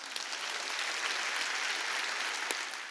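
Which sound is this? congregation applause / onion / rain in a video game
congregation applause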